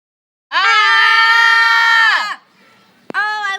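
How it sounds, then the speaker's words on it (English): Shrill, sustained screaming from several voices in an animated short film set at a coal factory. It bursts out loudly for about two seconds, then falls away to near silence before a second short scream cuts in. "why is everybody screaming?"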